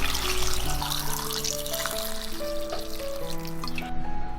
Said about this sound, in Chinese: 再加入适量开水